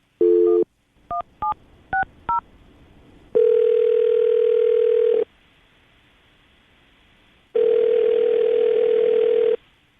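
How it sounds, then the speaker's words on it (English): A telephone number is dialed in a quick string of touch-tone beeps, followed by two long, even ringback tones separated by silence as the call rings out. "we'll call her right now, see if we can get her on the phone"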